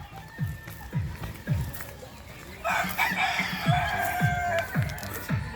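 A neighbour's chicken clucks in short repeated bursts, a steady run of brief calls at moderate distance, with a noisier stretch of background commotion joining partway through.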